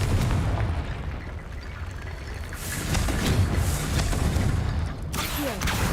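Blasting-spell explosions in the Hogwarts Legacy video game: dense, booming bursts over a continuous rumbling roar, loud and close, with a fresh burst near the end.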